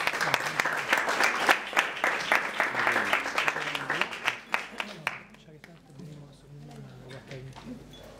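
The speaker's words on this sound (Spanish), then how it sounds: "Fuerte un aplauso a Santi Martínez, por favor." Audience applause at a live show honoring an Argentine performer, dense clapping that swells loudly for several seconds then fades into scattered claps, with a few voices calling out over it.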